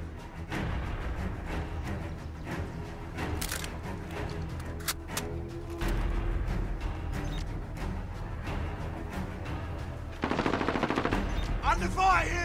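Battle royale game combat with rapid bursts of automatic gunfire and scattered single shots through much of the passage, a heavier close volley near the end, and a voice talking faintly underneath.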